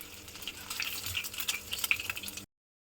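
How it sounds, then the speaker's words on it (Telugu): Eggs frying in hot oil in a pan, a steady crackling sizzle with scattered sharp pops, close and fairly soft, no voices, cutting off after about two and a half seconds. "ఒక ప్యాన్ పెట్టుకుని ఆయిల్ వేసుకొని ఎగ్స్ని అయితే కొంచెం సేపు ఫ్రై చేసుకుంటున్నాను"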